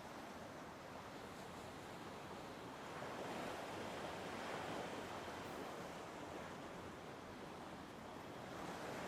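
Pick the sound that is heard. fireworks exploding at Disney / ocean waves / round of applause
ocean waves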